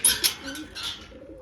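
Soft pigeon cooing, a couple of low murmuring calls close by, with faint chirpy bird sounds and light rustling around them.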